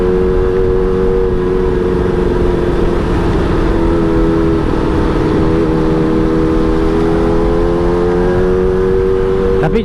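Kawasaki ZX25R motorcycle engine and exhaust while riding in rain, a loud steady multi-tone drone holding nearly constant with slight pitch shifts, running continuously throughout with no talking.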